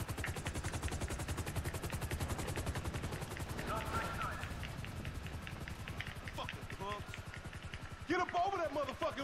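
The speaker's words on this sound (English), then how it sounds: "So I want to shoot this chopper down" Rapid, continuous gunfire in GTA 5 aimed at a helicopter, a dense repeating crackle of shots over the chopper's rhythmic rotor thump, with a voice talking over the action.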